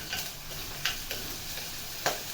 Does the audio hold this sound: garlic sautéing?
yes